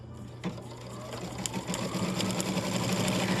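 A Baby Lock Altair 2 embroidery machine stitching a name onto a hooped treat bag, a steady rapid mechanical whirr and clatter that starts up and keeps running close by.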